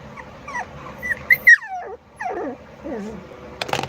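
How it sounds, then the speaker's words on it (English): Dogs whimper and whine with several high, wavering cries and short yips spread across the moment, close and fairly loud against a quiet background. "Oh, the dogs are doing great."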